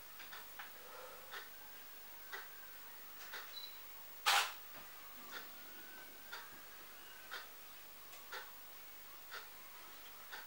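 Small, crisp clicks from a camera's shutter speed dial being turned by hand for manual exposure, regularly spaced and quiet, with one louder snap partway through.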